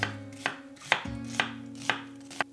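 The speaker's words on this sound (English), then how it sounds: "Now cut the onion in half and thinly slice it." A knife thinly slices a halved onion on a cutting board for gyudon, giving six crisp, evenly spaced chops close up, with no talk.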